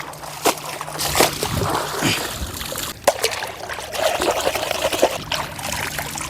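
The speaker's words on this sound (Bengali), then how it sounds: "ভালো করে বুড়িগুলোকে নদীর টলটলে পরিষ্কার জলে ধুয়ে নেব" Mutton intestines being rinsed by hand in clear river water, with steady trickling, pouring and sloshing splashes at close range and a few sharper splash bursts throughout.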